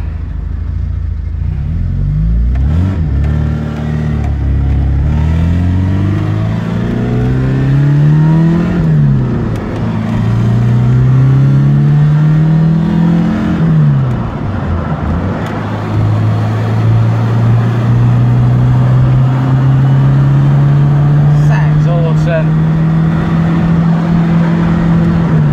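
Inside a moving 1974 Fiat 128 SL coupe, the 1.1-litre engine climbs and drops through several gear changes, then holds a long, steady rising drone, loud and close throughout.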